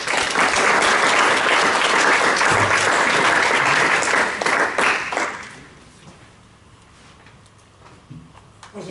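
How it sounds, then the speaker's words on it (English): Audience applauds loudly and steadily for a performer being welcomed to play, the dense clapping lasting about five seconds before thinning out into a quiet room. "Give him a round of applause"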